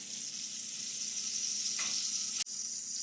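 Butter sizzling steadily in a hot pan while salmon cooks, a dense continuous crackle with a brief break and a louder burst near the end, no voices.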